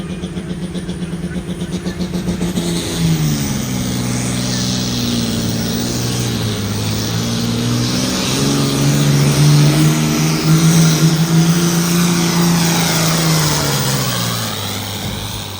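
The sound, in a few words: tractor engine roaring at a tractor pull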